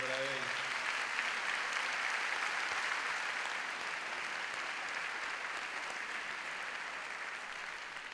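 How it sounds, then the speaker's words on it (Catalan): An audience at the 2012 València International band contest applauds composer Salvador Luján, author of Los Anillos de Saturno; steady, dense clapping fills the whole stretch at even loudness, with a brief voice trailing off at the very start. "Un aplaudiment també per a ell."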